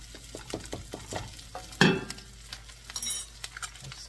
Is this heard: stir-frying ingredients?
yes